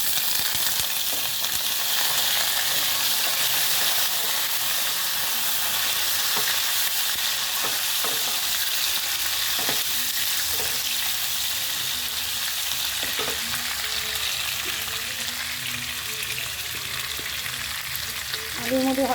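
Potatoes frying in hot oil for a potato and meat rice dish, a loud continuous sizzle running throughout with occasional stirring scrapes close by.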